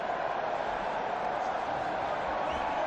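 A record-setting crowd inside Etihad Stadium in Melbourne at a UFC fight between Joanna Jedrzejczyk and Valerie Letourneau makes a steady, dense roar, loud and continuous throughout.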